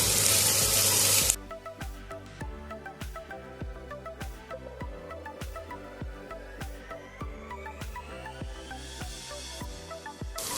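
Sliced onions frying in a pan for a spicy Bengali chicken kosha, a steady close crackle and sizzle with faint rhythmic stirring clicks, after a brief louder hiss at the start.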